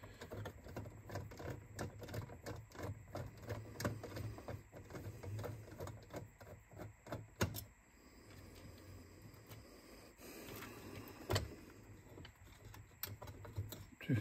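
Screws being removed from a Sony SACD player during a laser pick-up replacement, giving dense small mechanical clicks and rattles that run steadily and close by, then thin out into quieter scattered ticks.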